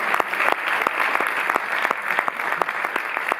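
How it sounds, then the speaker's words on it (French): An audience claps at a cinema presentation, a steady mix of many hands with sharp individual claps standing out. It holds at an even level for the whole stretch, with no talk over it. "On peut applaudir Éric."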